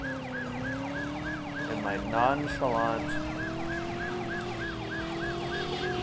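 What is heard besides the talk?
police car siren in the video game Driver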